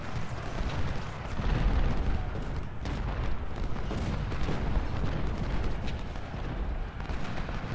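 Battle in Ultimate General Civil War brings continuous rumbling artillery fire and overlapping booms and volleys, loud and dense throughout with no clear pauses.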